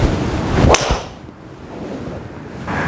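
A Cobra LTDx or Mizuno STZ 220 driver strikes a golf ball off the tee outdoors, a single sharp crack followed by a fading whoosh against light wind noise, with no talking.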